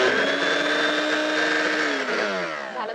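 A small electric juicer whirs loudly as it processes fruit in a home kitchen, a steady motor drone that dips slightly in pitch and loudness toward the end, with no talking.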